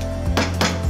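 A lid set down on a pot of fruit punch on the stove, making two or three quick metallic clinks and taps close by over a steady low hum.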